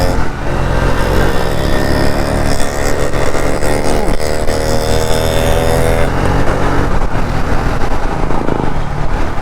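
Triumph Speed T4 motorcycle under way, its engine droning loud and steady throughout with rising and falling pitch as it accelerates, wind rush mixed in.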